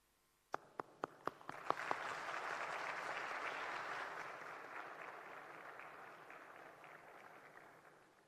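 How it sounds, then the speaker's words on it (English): Applause at a university graduation ceremony, led off by a few sharp separate claps before a large audience joins in a dense, sustained ovation that slowly fades. "give a good round of applause in appreciation of their unwavering support and commitment"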